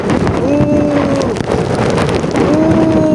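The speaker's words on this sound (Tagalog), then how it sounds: "Ang lakas ng hangin." Strong wind buffets the microphone with heavy, rumbling low gusts, while tonal hums rise and fall over the roar.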